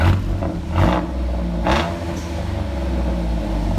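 2006 Chevy Silverado 1500 V6 fitted with a Flowmaster Super 10 single exhaust, revving in a few short bursts over a continuous deep, loud rumble, close by.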